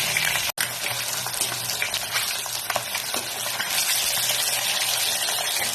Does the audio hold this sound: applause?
no